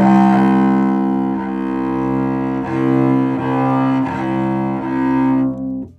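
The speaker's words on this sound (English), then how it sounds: "I'm going to show you what happens if you use too much bow" A cello bowed with too much bow, giving a fuzzy, rough tone: sustained low notes with repeated bow changes, loud and close, no talking.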